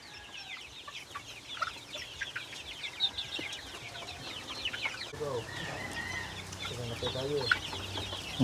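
Native chicken pullets cluck and chirp in a chorus throughout, with a low background hum and a faint voice underneath, moderately close in a poultry pen setting.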